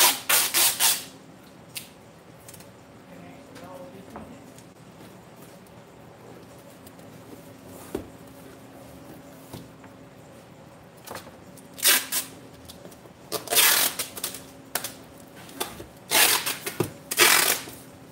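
Packing tape applied to a cardboard box: a quiet stretch, then several loud, close, rasping pulls and rips of tape in bursts, with some rustling and handling noise between them.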